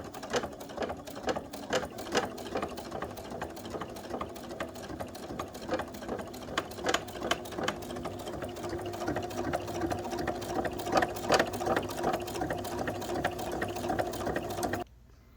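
A sewing machine stitches fabric for a zippered toiletry bag, running in a steady close whirring drone with quick rhythmic needle clatter and brief pauses before stopping abruptly near the end.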